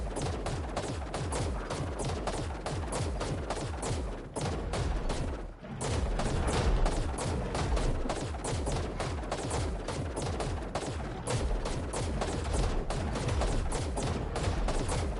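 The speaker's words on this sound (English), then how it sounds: "so I can just shoot non-stop" Non-stop gunfire from a weapon in the video game Ark, with rapid, evenly spaced shots in a loud continuous stream and only a brief break near the middle, with no talk over it.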